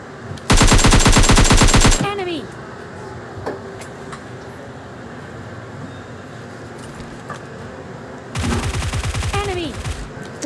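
Automatic gunfire in the video game PUBG Mobile Lite, two loud sustained bursts of rapid shots at the start and near the end, with quieter game background between them.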